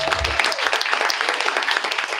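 Audience applause at a school district board meeting for Christmas card design winners, a dense burst of steady clapping filling the room throughout.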